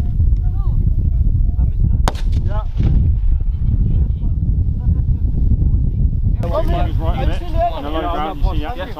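Gunfire rings out during a British Army officer cadet assault exercise at Grafenwoehr, Germany, with a sharp nearby shot early, then dull distant booms under wind rumble and radio chatter, ending in a burst of harsh, crackling transmission noise.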